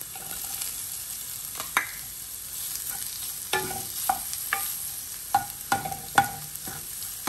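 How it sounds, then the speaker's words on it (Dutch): Shallots fry in oil in a pan for an Indian spinach and coconut dish, giving a steady quiet sizzle broken by scattered clicks and scrapes of stirring, with no voices. "En die laat ik even fruiten voordat ik de spinazie erbij doe."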